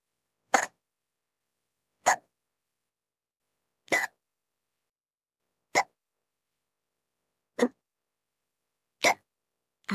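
Hiccups from a person sitting at a computer, seven sharp isolated hiccups spaced about every one and a half to two seconds against near silence.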